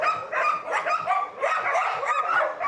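Dogs at an animal shelter for abandoned pets yip and bark in quick overlapping bursts, close and fairly loud, with a whimpering edge and no pause throughout.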